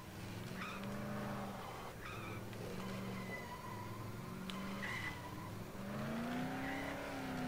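A car driven in the zombie game Dead Island, its engine note rising and falling in steady harmonic sweeps with tire squeals and skids layered over continuous road rumble, loud and close throughout.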